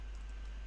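Light, quick keystrokes tap on a computer keyboard, faint and close over a low steady hum, a short burst of soft clicks.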